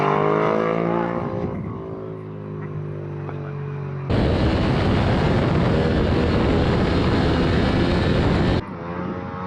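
A Ducati WSBK superbike revs and accelerates hard on a track, a loud, rising engine roar with a sudden dense full-throttle burst lasting several seconds, then easing back.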